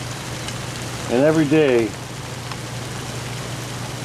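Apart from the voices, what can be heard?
heavy rain pouring down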